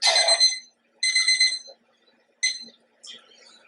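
Kitchen timer being set while cooking, giving four bright electronic beep bursts, the first two longer and the last two short, clear and close with no talk.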